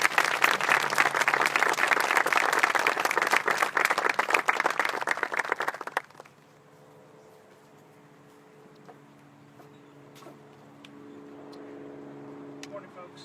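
An audience at a groundbreaking ceremony applauds to welcome a speaker, a steady loud round of clapping that stops abruptly about halfway through, leaving quiet room tone with faint shuffling.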